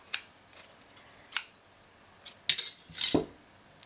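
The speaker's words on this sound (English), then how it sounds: "Now we're going to cut this thread off" Scissors snipping embroidery thread on a shibori silk beaded earring piece, several short crisp clicks spaced unevenly, close and fairly quiet with no talking.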